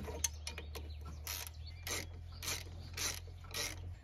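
Hand ratchet backing out a 10 millimeter bolt on a Chevrolet Trailblazer or GMC Envoy during AC compressor and accumulator replacement, a close, quiet series of clicking ratchet strokes in short bursts over a low background hum.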